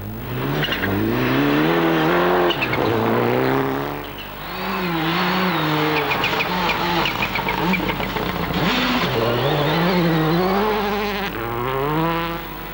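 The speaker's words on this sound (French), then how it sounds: "Jari Viita se débat au volant d'une Ford Focus WRC privée" A privately entered Ford Focus WRC rally car at the 2001 Arctic Lapland Rally in Finland drives loudly past, its engine revving up and down through repeated gear changes with a short lull midway.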